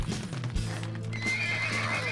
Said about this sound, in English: Where did they get horses?